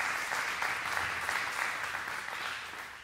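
Audience applause at a synagogue Rosh Chodesh service, a steady wash of many hands clapping that holds for the whole stretch and tapers slightly at the end.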